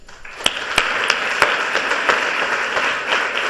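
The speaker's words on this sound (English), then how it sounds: "Warm round of applause for Aya Gruber." A lecture audience applauds, a dense wash of many hands clapping with a few sharper claps standing out, sustained throughout.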